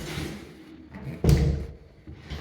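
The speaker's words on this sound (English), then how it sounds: "Bifold door." A small bifold closet door in a house interior swings open, giving a soft rolling slide followed by a solid thump as the panels fold, with a lighter knock shortly after.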